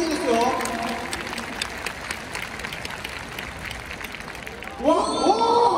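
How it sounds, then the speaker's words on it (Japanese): A fan appreciation day crowd at a baseball team's improvised dance battle applauds to vote for a player, a broad clapping wash that fades out before an announcer's voice returns at the end. "中川選手が良かったと思う方拍手お願いします"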